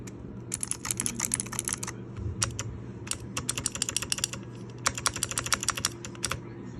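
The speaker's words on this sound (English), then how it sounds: "It's a blue key. It's a very good sounding keyboard" Mechanical keyboard with blue switches being typed on up close, bursts of sharp, clicky keystrokes in quick runs with brief pauses between them, no voices.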